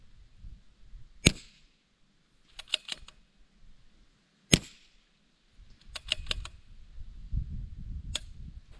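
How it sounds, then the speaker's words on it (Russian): Small-bore rifle shots during sniper practice ring out as several sharp, separate cracks spaced seconds apart, with quiet rustling and handling noise in between. "Это был последний выстрел."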